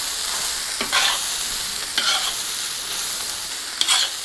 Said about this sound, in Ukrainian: Настав час закладати капусту. І все гарно перемішую.